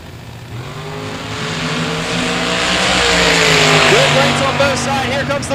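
A supercharged blower drag racing car launches at the starting line, its engine roaring loud and rising steadily over several seconds as it pulls away, with a track announcer's voice heard over the noise.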